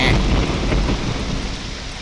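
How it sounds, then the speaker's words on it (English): A rain-heavy thunderstorm in the video game Morrowind: steady loud downpour with rolling thunder rumbling throughout, no voices. "Thunderbolts and lightning, very, very frightening."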